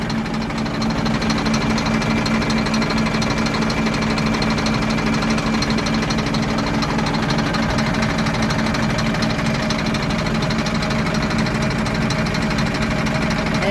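A 2023 Scania truck engine idling with a malfunction, a loud, continuous rapid knocking and buzzing clatter held at steady level throughout, heard up close with no talking.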